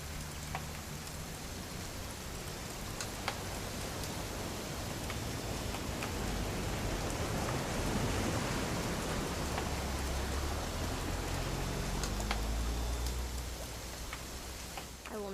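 Steady rainfall in What Remains of Edith Finch, a continuous broad hiss of drops pattering on surfaces with scattered sharper ticks, swelling slightly in the middle and holding even throughout with no voices.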